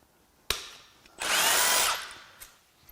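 A power tool briefly whirs to loosen a bolt on a BMW/Mini Cooper S N18 engine during a teardown, one loud, close burst of about a second after a sharp click, with small clanks around it.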